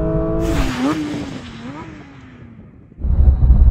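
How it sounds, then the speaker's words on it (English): A Porsche 911 GT3 makes a full emergency stop from 70 mph, its engine note dropping and wavering as it slows over a rushing tyre roar, then going quiet before a low rumble returns, with a voice speaking. "I'm going to do a full emergency stop from 70 miles an hour."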